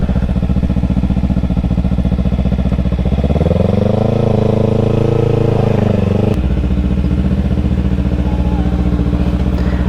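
Kawasaki Ninja 300 motorcycle engine heard while riding, loud and close throughout with a steady buzzing drone that rises in pitch as the throttle opens, then drops abruptly on a shift or roll-off.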